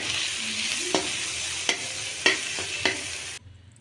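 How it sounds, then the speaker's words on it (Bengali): Chana masala ingredients and spices fry in a pan with a steady sizzle, punctuated by four sharp spoon-scraping stirs at regular intervals before the sound cuts off abruptly. "সব কিছু উপকরণ দিয়ে এবার আমি ভালো করে এটা নাড়াচাড়া করলাম"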